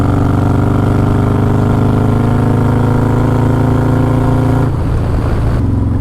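Harley-Davidson Road Glide motorcycle with a 135 engine heard while riding on a long cross-country trip, a steady loud low engine drone with continuous harmonic rumble, shifting briefly near the end.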